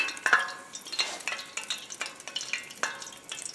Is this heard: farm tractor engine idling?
no